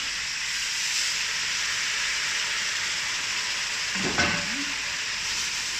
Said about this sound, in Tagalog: Yan, ilagay natin yung sabaw.